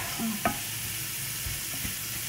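A cumin coriander powder blend stirred into a hot pan of cooking dal, with a close, steady sizzle and a few soft spoon scrapes and taps against the pan.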